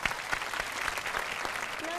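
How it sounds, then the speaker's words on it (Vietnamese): Studio audience applause on a comedy dating show, dense steady clapping close and loud for a couple of seconds, with a voice beginning to sing at the very end. "Vỗ tay đi quý vị."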